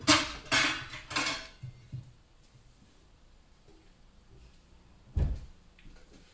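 A plate being handled in a home kitchen while plating an egg omelet: a few sharp clattering knocks of crockery at the start, a quiet pause, then one more solid clunk later on, fairly close and alone.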